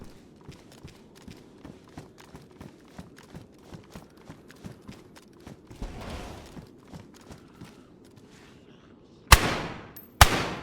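Two sudden loud blasts near the end of a DayZ game session, each a sharp broadband crack with a ringing tail, following a stretch of rhythmic footsteps and quieter movement sounds.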